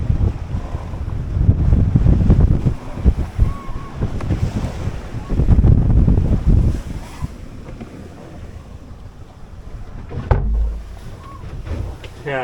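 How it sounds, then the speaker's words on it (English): Strong wind roars across a sailboat at sea on a close reach between Atlantic City and Cape May, with gusty buffeting on the microphone, waves washing against the hull and a brief loud thump, all steady and close throughout. "it's a little bit not just breezy out there, it's also a little bit wet."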